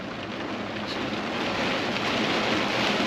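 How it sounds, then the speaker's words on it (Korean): Heavy rain pouring down in a sudden downpour, a dense, steady hiss of falling water that stays constant and fairly loud throughout. "어우 비 오는 거 좀 보세요 비 오는 거 좀 보세요 비 오는 거 보이시죠?"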